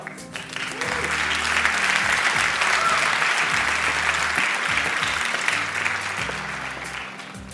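Sustained audience applause for Cloud Computing and Services graduates at the EIT Digital Academy graduation ceremony, a steady crowd clapping that swells early and fades slightly near the end, with a low tonal hum underneath.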